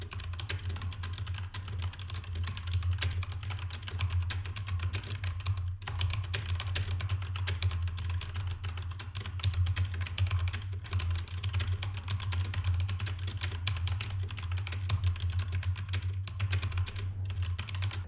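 Rapid continuous clatter of fingers on a computer keyboard during a typing speed test, dense fast keystrokes over a low steady hum, close and unbroken for eighteen seconds, no voices.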